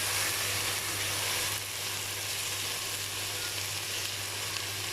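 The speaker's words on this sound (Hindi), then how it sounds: "5 मिनट तक मैंने चिकन को भून लिया है, प्याज, साबुत गरम मसाले के साथ" Chicken sizzles steadily in a pan with onion and whole garam masala spices as it is stirred, a dense, loud, continuous frying hiss with no voices.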